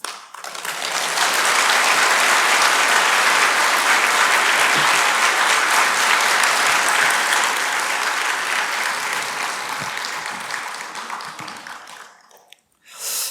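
An audience at a Baptist church gives sustained, loud applause to welcome a university professor as a speaker, the clapping swelling in, holding for about ten seconds, then fading out.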